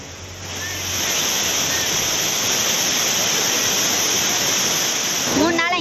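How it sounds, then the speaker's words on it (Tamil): Heavy water roars down the Courtallam waterfalls after rain, a loud, steady broadband rush filling nearly the whole stretch, with a few faint higher tones near the end. "மழையால் குற்றாலத்தின் அனைத்து அருவிகளிலும் தண்ணீர் ஆர்ப்பரித்து கொட்டுகிறது"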